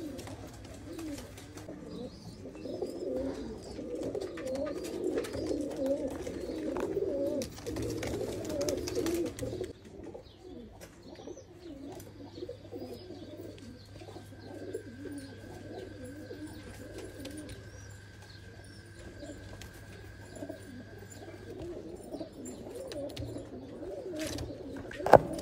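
Oman Teddy pigeons coo in soft, repeated low throbbing calls, close and fairly quiet, with several birds overlapping in a steady murmur over a faint background hum.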